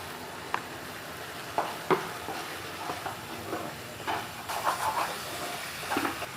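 Turmeric, coriander and red chilli powders sizzle in hot oil in a pan while cooking pointed gourd kurma, a steady close hiss with a few soft clinks of stirring.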